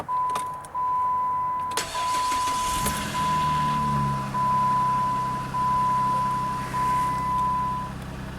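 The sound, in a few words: 2008 Jeep Grand Cherokee 3.7 cold start and idle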